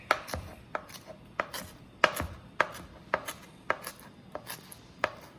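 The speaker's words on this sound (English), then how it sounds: "we're gonna cut up a little bit of chives" A knife chops chives on a cutting board for home fries at a birthday brunch, about a dozen crisp, fairly evenly spaced taps, close and quiet, with no talking.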